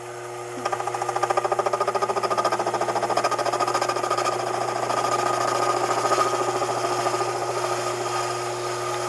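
A lathe with a parting tool cuts into aluminum, producing a loud, steady, rapidly pulsing mechanical chatter over a constant motor hum, with no voices.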